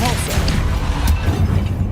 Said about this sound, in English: Depulso.